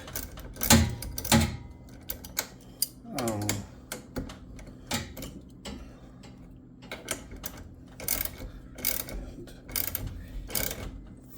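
Set screws being tightened on a garage door cable drum during installation, a series of sharp metallic clicks and ratcheting ticks in irregular bursts, close up, with someone talking in between.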